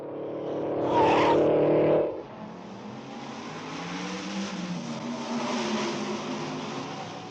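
Race cars circle a dangerous two-mile street course over 100 laps. A loud engine drone passes close for about two seconds, then drops away and gives way to a softer, steady mix of several cars droning and shifting pitch in the distance.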